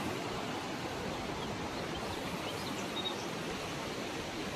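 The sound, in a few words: river flowing in a mountain village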